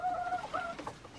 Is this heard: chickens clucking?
yes